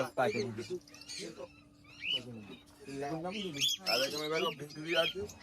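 Budgerigars at a Sunday-morning bird market in Serampore chirp and squawk in quick bursts, close by, mixed with a voice talking over them.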